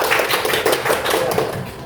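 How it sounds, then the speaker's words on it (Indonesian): A classroom group claps together in quick dense bursts, a lively close applause lasting a couple of seconds with no other sound standing out. "Kita kasih semangat dulu dong, tepuk tangan yang meriah"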